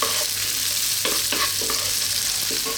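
Celery and carrots stir-fried in a hot pan for vegetable fried rice give a steady, close sizzle, with repeated scraping stirs and tossing clatter breaking through every second or so.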